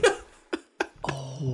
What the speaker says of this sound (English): Oh, you added the fart.